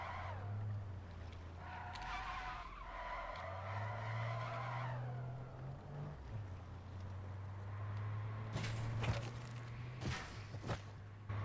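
Car tires skid and squeal under braking on a car with worn, shoddy brakes, a game-like racing scene with steady engine drone beneath, sharp screeches, and a few clattering impacts toward the end.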